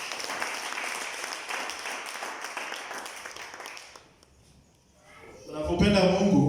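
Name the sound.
congregation applauding in church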